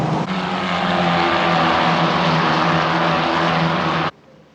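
Euro 4 championship race cars at Mugello circuit, a loud sustained engine roar from several cars passing close and blending together, cutting off abruptly near the end, with no talk.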